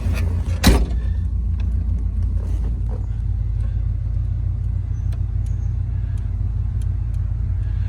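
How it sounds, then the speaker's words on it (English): Power convertible top on a 1967 Pontiac GTO cycling up and down, a steady low motor rumble held throughout with a sharp clunk near the start and faint small clicks later. "we'll run the top up and down"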